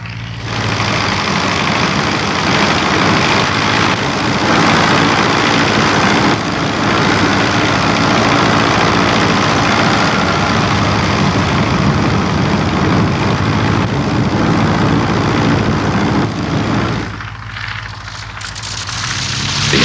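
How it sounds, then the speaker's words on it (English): Avro Tutor vintage biplane in flight at an air display, its engine droning steadily and loudly throughout, then easing briefly near the end before returning. "Let's now fly with the Avro Tutor."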